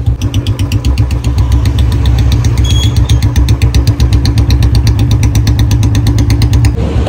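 A modified Royal Enfield Bullet motorcycle idles close by, a loud, steady single-cylinder thump with an even rapid beat that holds for several seconds without talk.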